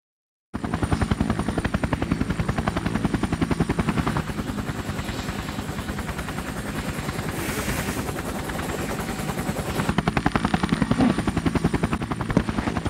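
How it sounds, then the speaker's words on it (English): A helicopter in the PS2 video game Rogue Ops waits at an insertion point, its rotor chopping in a loud, steady, rapid rhythm that goes on throughout. "The chopper will only wait for 2 minutes."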